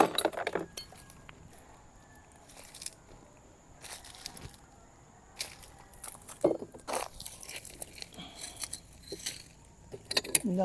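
Broken glass shards from bottles clinking and crunching as they are gathered by hand during a trash haul, irregular bursts of sharp chinks and rattles scattered through the clip, fairly close, with quiet gaps between.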